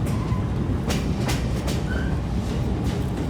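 A logging railroad train rolls along the tracks in a steady, continuous rumble, with rhythmic clicks from the wheels over rail joints and a brief faint squeal, close and alone with no talk.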